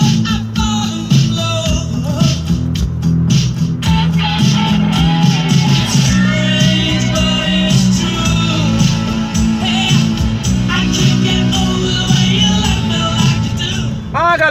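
A song playing on a car radio, music with a steady beat and melodic tones filling the cabin, with someone talking over it.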